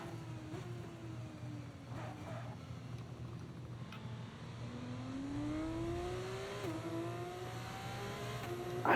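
An F2 race car engine from the F1 25 video game drives a lap, its tone rising through the gears with upshifts and then dropping back, a steady moderate drone throughout with no talking.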